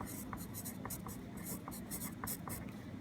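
Pencil scratching across paper while spelling words are written out repeatedly, a steady close scritching with short strokes and pauses over a low room hum.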